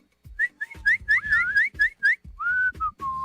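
A person whistles a quick, bright tune in short bursts, some notes sliding up and down, close and clear with breathy gaps between phrases.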